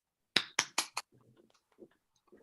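Four sharp, evenly spaced claps ring out close and loud in a row at a final tribal council, then give way to a few faint, scattered sounds and low murmurs.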